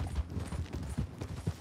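Horse hooves clip-clopping in the Western video game Red Dead Online, a quick uneven patter of muffled low thuds at moderate volume, with no talking.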